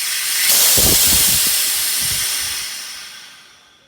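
Air rushes out of the rear axle airbag suspension on a Chevy C20 truck in a loud, close, steady hiss that holds for a few seconds and then fades away, with no talking.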